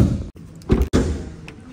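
Opening the bonnet of a 2024 Maruti Dzire VXI sedan with a 1.2-litre four-cylinder petrol engine: a couple of close, sharp metallic clunks and taps of the latch and lid amid low background noise.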